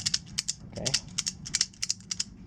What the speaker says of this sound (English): then I'll use the ratcheting mechanism